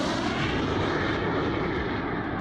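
Galeb G-2 jet aircraft in flight, giving a dense, continuous roar of jet engine noise that holds steady and loud across the whole moment, with no voices.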